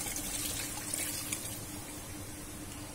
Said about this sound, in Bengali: যে বাটিটার মধ্যে ম্যারিনেট করে রেখে দিলাম তাতে জল নিয়ে এটাকে এর মধ্যে দিয়ে দেব